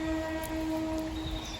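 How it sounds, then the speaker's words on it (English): A locomotive horn sounds at a station, a sustained steady tonal blast held for a couple of seconds at moderate distance with no pauses. "the most beautiful goose honking and the most beautiful locomotive honking"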